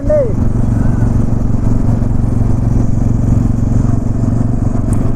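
A new Bajaj Pulsar N250 motorcycle engine runs with a steady, loud low rumble throughout, close by and continuous with no clear revving.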